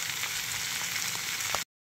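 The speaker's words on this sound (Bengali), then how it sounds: "আর যে মাছগুলো ছিল মাছগুলো আমি দিয়ে দেব। এবার দিয়ে কিছুক্ষণ নাড়াবো।" Fish frying in a pan of greens while being stirred, a steady dense sizzle with faint scraping, close and continuous for under two seconds before cutting to silence.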